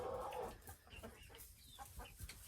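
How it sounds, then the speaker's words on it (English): A farmyard flock of hens with about three roosters, gathered around a hay bale, clucks in soft, scattered calls at a quiet, slight distance, with no one speaking. "I think it's like 3 roosters and the other ones are hens."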